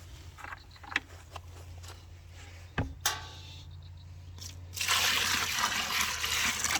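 Water is poured into a crater of dry cement mix for a small coop slab, a soft trickle at first with a few knocks, then swelling into a broad, steady gushing rush near the end.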